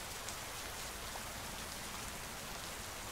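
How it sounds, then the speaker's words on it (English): Rain falls in a steady, dense patter of countless drops on a surface. The hiss stays even and unbroken throughout, with no voices. "you wonder if there has ever been a raindrop that made the exact same noise as another."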